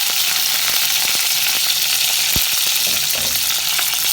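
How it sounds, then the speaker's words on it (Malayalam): Curry leaves crackling in hot oil with popped mustard seeds, a dense, loud, continuous sizzle heard up close with scattered sharp pops. "നമ്മുടെ കടുക് പൊട്ടി വന്നിട്ടുണ്ട് ഇനി നമുക്ക് അതിനകത്തേക്ക് കുറച്ച് കറിവേപ്പില ഇട്ട് കൊടുക്കാം"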